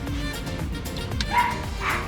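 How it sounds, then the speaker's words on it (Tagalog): Mikay the dog gives a few short barks and yips at moderate distance, mixed with background rumble and an outdoor bustle. "Ito ang aso namin na si Mikay"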